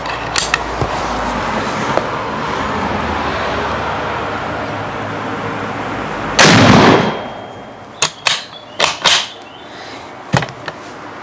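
A Dreyse rifle loaded with a 3D-printed sabot fires one loud, sharp shot midway through steady outdoor background noise, followed by several short clacks and knocks.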